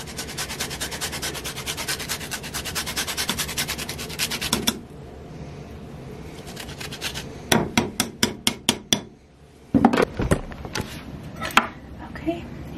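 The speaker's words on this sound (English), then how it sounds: "grating a little bit of cheese" Cheese and lemon zest grated by hand in a home kitchen, a rapid rhythmic rasping that runs for several seconds, then separate scraping strokes after a short pause, all close.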